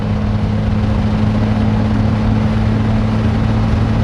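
A steady, low truck engine drone runs continuously, the engine humming under load while in gear, with no breaks or talking.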